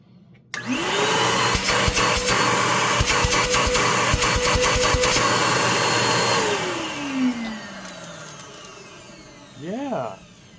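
Bissell PowerClean OnePass upright vacuum running with its dirt bin removed, starting abruptly into a loud steady whine with some rattling, then winding down near the end, close by.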